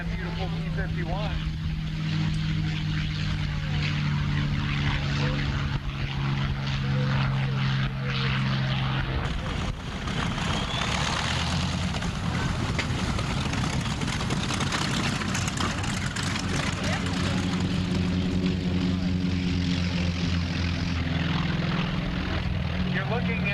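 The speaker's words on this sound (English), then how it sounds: "showing us a high-speed pass. That is a sound that no other airplane can duplicate." A P-51 Mustang propeller fighter makes a high-speed pass at an air show, a loud sustained engine drone that swells and shifts in pitch as it passes, with an announcer talking over it.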